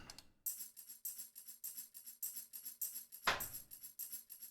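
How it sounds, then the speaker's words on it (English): A programmed tambourine sample pattern in FL Studio loops as crisp, evenly spaced jingling hits in a tight repeating rhythm, with one louder accented shake partway through, clean and alone. "these are the same exact patterns of tambourines"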